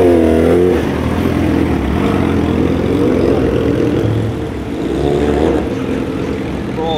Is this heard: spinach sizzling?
no